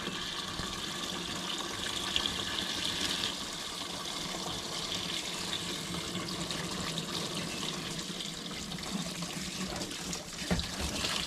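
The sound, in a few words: washing machine filling with water during wash cycle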